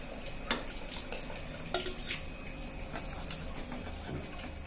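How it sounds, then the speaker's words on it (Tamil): Mashed dal being stirred into a pot of drumstick sambar, with soft clinks of a metal ladle against the pot and light stirring scrapes repeating at an even, unhurried pace. "இந்த நம்ம மசிச்சு வச்ச பருப்பை இதுல ஆட் பண்ணிக்கலாம்."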